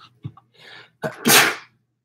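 A single loud sneeze with a sharp intake of breath before it, close to the microphone, followed by silence.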